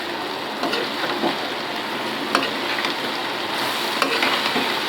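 Ridge gourd pieces hit a hot pan of masala and fry with a steady, loud broadband sizzle, occasional stirring scrapes and clicks punctuating the continuous hiss throughout.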